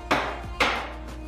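Maamoul cookie rapped out of a wooden mold: two sharp knocks about half a second apart, close and fairly quiet, each with a short woody ring and no talk.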